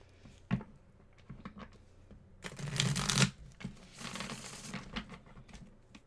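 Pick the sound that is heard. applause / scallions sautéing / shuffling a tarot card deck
shuffling a tarot card deck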